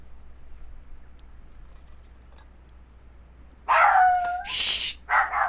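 A dog barks several times in quick succession near the microphone, loud and sharp after a few seconds of quiet room noise.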